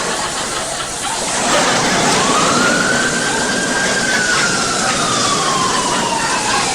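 A police siren wails loudly and close by, its tone sweeping upward and then holding in a long, steady rise and fall with no other sounds over it.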